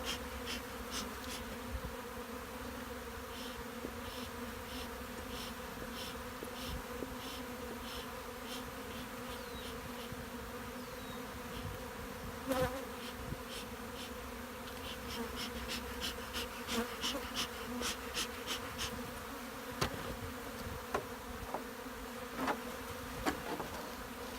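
Honeybees buzz continuously around an open hive in spring, a dense steady drone with individual bees zipping close past at intervals, no voices.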